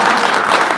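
A brief, loud burst of audience applause in a dense, continuous wash of clapping from a crowd at a political discussion event in East Java.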